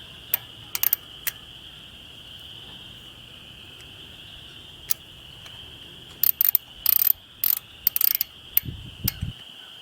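A hand ratchet snugging down bolts on a small tractor during a DIY repair, heard as quick clicking bursts near the start and a denser run of clicks near the end over a steady high background hum.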